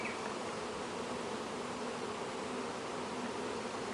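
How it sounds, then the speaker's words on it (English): A dense, steady hum of many buzzing bees fills the clip, close and constant, with a faint higher tone of a piping virgin queen bee briefly standing out near the start. "I wonder if there's a virgin trying to chirp and kill other queens."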